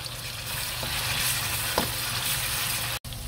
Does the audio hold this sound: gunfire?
no